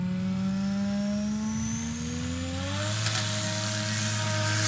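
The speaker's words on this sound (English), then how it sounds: "And we're hearing the engine pop and fire and dragon's breath" A STOL aircraft engine at the Sodbusters 2023 competition in Hartford roars steadily on a final takeoff run, its pitch climbing midway as power builds, loud and close with broadband wind-like rush and no talk.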